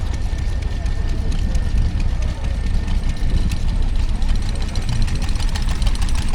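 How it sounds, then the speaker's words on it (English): A Lister D stationary engine running at a country show, giving a steady, low, close thumping chug beneath crowd murmur and nearby speech. "now we get to the stationary engines. This one looks to be a Lister D"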